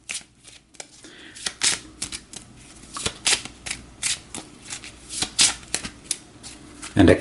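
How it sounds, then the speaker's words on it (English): A deck of playing cards being shuffled and cut for a tabletop boxing game, a run of crisp riffling bursts and rapid snaps close to the mic, with a voice speaking briefly. "So we'll give this a shuffle."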